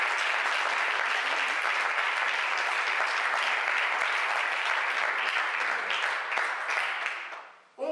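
A congregation at a church service applauds loudly and steadily, dense clapping filling the space for several seconds before fading out at the end.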